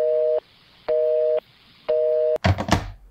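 A telephone busy tone after a hang-up sounds as three evenly spaced steady beeps, followed by a brief burst of clattering handling noise at the end.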